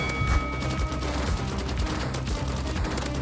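Rapid gunfire from a Roblox Rivals match crackles in dense bursts, a steady stream of punchy shots layered with game noise, loud and close throughout.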